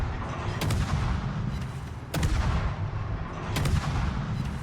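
Ship guns fire in the naval video game World of Warships as a Dutch tier 9 destroyer battles at sea, with three heavy booming salvos spaced a couple of seconds apart over a constant low rumble of engine and water.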